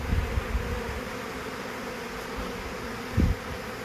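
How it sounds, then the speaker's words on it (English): Bees swarming inside a wall cavity during a cut-out, a continuous dense buzzing hum from many insects nearby, with a couple of brief low thumps. "Still a little bit crazy up there, but hopefully these bees will start moving down."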